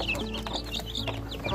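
Jumbo Pelung chicken chicks chirp and cheep continuously, a busy overlapping chorus of high peeps and soft clucks close by, with no voices.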